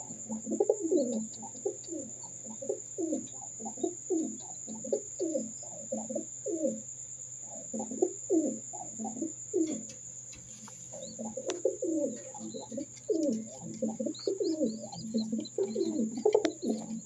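Highflyer pigeons, a breeding pair, coo steadily in repeated low throaty phrases that run through with short pauses, close by and clear over a constant background hum.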